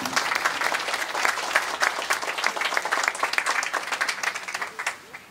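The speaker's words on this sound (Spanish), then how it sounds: "El aplauso para él." Close, dense applause at a municipal bakery ceremony in Miraflores as the mayor is welcomed, with distinct claps throughout that fade out over the final second.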